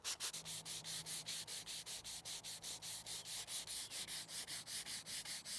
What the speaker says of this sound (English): So I'm gonna take my 220 here and just, you know, gingerly sand the inside.